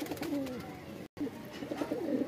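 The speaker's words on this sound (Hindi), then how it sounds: "ये रामपुरी गजरा कबूतर।" Rampuri gajra pigeon with white plumage cooing close by, a few soft rolling coos with a brief gap in the middle, fairly quiet and clear with no talk over it.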